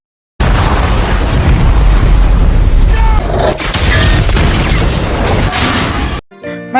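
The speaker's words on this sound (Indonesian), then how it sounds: "Deepwater Horizon meledak dan seketika menghancurkan sebagian besar tempat itu" A massive, loud explosion of the Deepwater Horizon oil rig in a film roars and rumbles continuously, with crashing debris and deep booming that cuts off abruptly.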